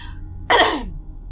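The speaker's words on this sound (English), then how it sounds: "I just cough so much that I'm literally tearing up." A person with a tickle in the throat gives one sharp, loud cough that turns into throat clearing, heard close and alone.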